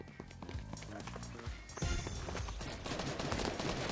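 Enemy gunfire rattles in Fortnite as a player is shot at, with dense bursts of rapid shots and impacts layered over busy in-game action.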